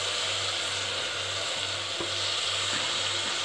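Potato and cabbage frying in a pan with garam masala and chaat masala, giving a steady, close sizzle with a low hum and occasional soft scrapes as the mixture is stirred.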